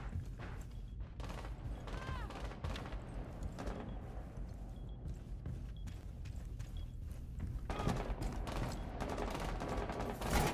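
Video game gunfire in Rainbow Six Siege, with rapid bursts and scattered shots cracking at varying distances through a busy, cluttered scene and quiet talk underneath.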